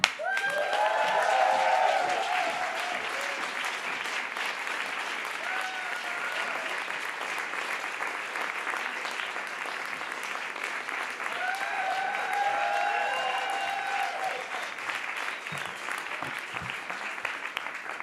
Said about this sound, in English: give a big hand all the way from the Czech Republic, Anne!